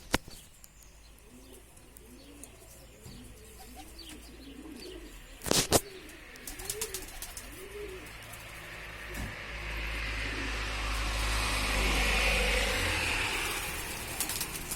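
Soft, repeated pigeon coos roll on in a steady rhythm at close range inside a loft, with a sharp clatter midway and a rising hiss of background noise later on.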